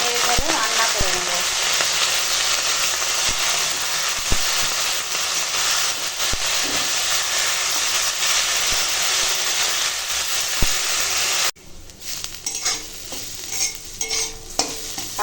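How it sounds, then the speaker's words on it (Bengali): Pumpkin greens stirred and fried in a pan with turmeric and salt, a steady loud sizzle with scraping stir strokes running for most of the clip, then cutting to quieter kitchen clatter near the end. "এখন কুমড়ো শাকটাকে নেড়ে নেড়ে রান্না করে নেব।"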